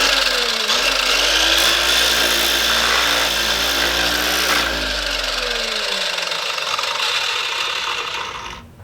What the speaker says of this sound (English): here it is set up as a sander